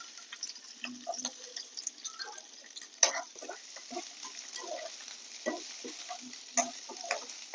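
Okra frying in a little oil in a hot pan gives a soft, steady sizzle with scattered crackles and occasional stirring scrapes, fairly faint and with no talking.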